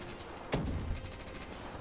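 Rapid automatic gunfire from a DLC weapon in Black Ops 3 custom games, a short burst of crackling shots with one sharp report standing out, heard alone without talk.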